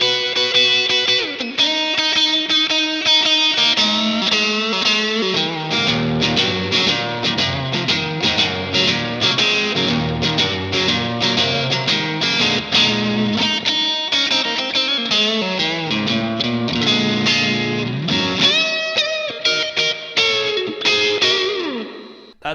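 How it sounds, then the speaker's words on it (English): An electric guitar played through a Black Box Overdrive 2 pedal rings out with driven, slightly gritty overdrive, strummed chords and picked notes continuing loudly and steadily without any talking. "I really haven't been able to find a pedal that can do that as well as the Black Box Overdrive 2."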